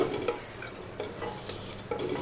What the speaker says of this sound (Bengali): কালো জিরেটাও আমি একটু ভেজে নিলাম তেলের মধ্যে